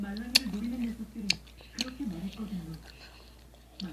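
A mouthful of spicy candy being chewed and bitten with sharp crunchy clicks, close to the mic, while a person speaks softly over it.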